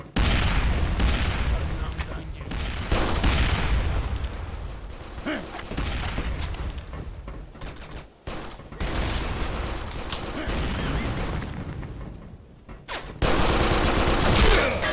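Counter-Strike 2 match with a grenade thrown amid sustained gunfire, dense and loud bursts of shots running almost continuously, with a brief drop near the middle and a heavy burst at the end; players talk over it.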